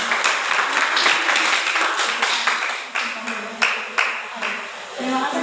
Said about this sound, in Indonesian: Boleh tepuk tangan, boleh lah.